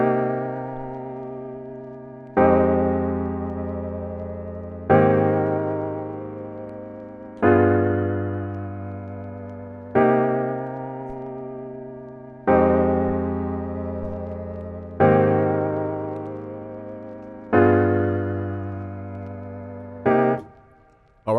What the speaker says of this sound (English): I'm gonna be showing you the effects to put on here to make it sound like a lo-fi piano